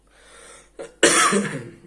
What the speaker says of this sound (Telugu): ఈ దగ్గు బెంగళూరు నుంచి ఉంది